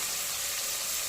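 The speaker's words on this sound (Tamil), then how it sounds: "இஞ்சி பூண்டு பேஸ்ட் ஆட் பண்ணிவிட்டு அதை கொஞ்சம் நல்லா வதக்குவோம்" Ginger garlic paste sautéing with onions in a pan while cooking attukaal paya, a soft, steady, continuous sizzle with no breaks and no voices.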